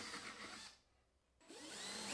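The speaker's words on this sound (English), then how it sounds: "I'm freehanding this 15mm countersink for the bolt to recess in" A power drill freehand bores a 15mm countersink for a recessed bolt in a glued-up wooden chair, a close whirring grind that stops for a moment, then spins up again and grows louder.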